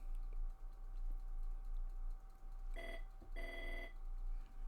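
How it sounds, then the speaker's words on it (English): A desk telephone rings twice in an office, two bright electronic bursts about half a second apart, standing out over a steady background hum. "And excuse the phone calls there."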